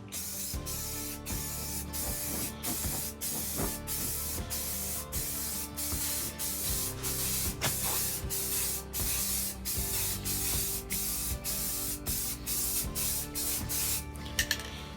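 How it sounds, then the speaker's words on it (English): Spray paint hisses steadily onto a truck floorboard over brushed-on coating, a continuous close aerosol spray broken by brief pauses between passes. "hit it with a little spray paint afterwards."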